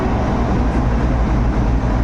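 A WDG 4G diesel locomotive on an Indian railway line gives a loud, steady, dense rumble with a low engine drone and broadband noise throughout, close and continuous with no distinct beats.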